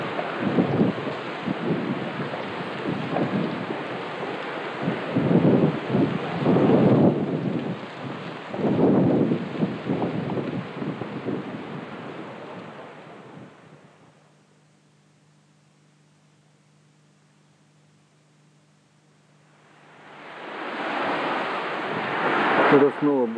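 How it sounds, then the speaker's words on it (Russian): Rough sea surf from a winding-down storm, with broad roaring wash and gusts of wind, loud and close, then fading to near silence before the surge returns near the end. "на море шторм, здесь прибой, вид обалденный, шторм уже практически затих."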